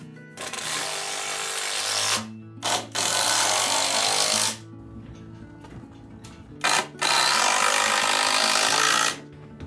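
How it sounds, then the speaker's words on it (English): A power drill drives screws from the side into wooden beams during carpentry work on a house frame. Several loud, close whirring bursts of different lengths are separated by short pauses. "When securing the beams, I usually drive screws in from the side."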